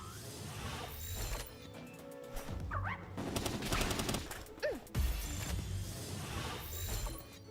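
Gunfire from a gun in the video game Palworld comes as repeated rapid bursts over a busy game soundscape, fairly faint overall, with a few sharp louder shots standing out and no talk.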